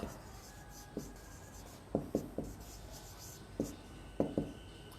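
Pen strokes writing on paper during an accounting lesson, with short scratchy bursts that come singly and in quick pairs, close and fairly quiet over a soft background hiss.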